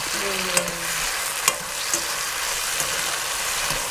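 Mushrooms, carrots and shishito peppers sizzle steadily in a hot pan while a utensil stirs and scrapes, with a few sharp clicks against the pan.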